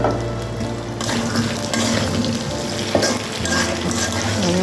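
Ground spices and torn green chilies fry in hot oil in a pan, a loud continuous sizzle broken by stirring scrapes and clatter close by, with no talking.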